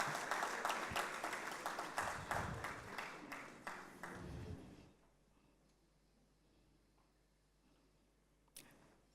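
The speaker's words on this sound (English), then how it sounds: "Please give her a round of applause as she makes her way to the podium." Conference audience at a panel session applauding as a speaker walks to the podium; dense clapping for about five seconds, then fading to a quiet room with a single faint clap near the end.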